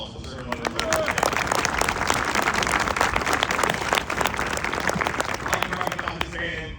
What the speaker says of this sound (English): please a round of applause for the ceremonial color detail